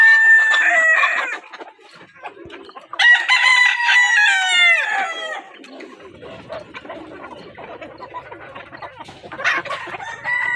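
Golden Misri hens cluck and a rooster crows loudly up close on a hen farm, with several long crowing calls and bursts of clucking alternating with quieter stretches.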